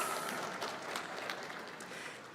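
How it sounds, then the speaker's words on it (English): Applause from the audience at a University of Nairobi graduation ceremony, a steady dense wash of clapping held at a moderate level throughout with no talk over it. "Can we give him a round of applause?"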